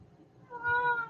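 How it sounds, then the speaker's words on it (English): A pet cat gives a single short meow, close and clear, rising out of quiet room tone near the end. "And my kitties."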